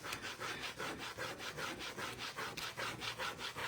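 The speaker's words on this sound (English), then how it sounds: "you just take your little tool that comes with it and you just rub, rub, rub." Steady, rhythmic rubbing of a small burnishing tool pressing a transfer onto a scrap-wood serving tray, a soft scratchy back-and-forth stroke repeating quickly and evenly, quiet and close with no voices.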